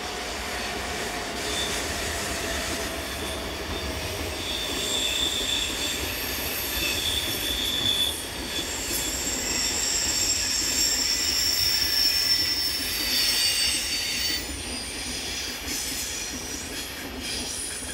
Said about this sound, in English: Heading into the station from the Olten line is one of the hourly interregional services from Bern to the capital Zürich, headed by Class 460 locomotive